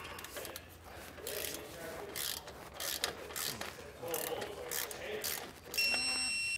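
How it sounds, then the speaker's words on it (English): A carriage bolt being tightened during an Air Lift LoadLifter 5000 air helper spring install on a 2020 Ford pickup, faint ratcheting and metallic scraping clicks in irregular bursts with some quiet talk. "we can go ahead and tighten down our carriage bolt that we passed down previous"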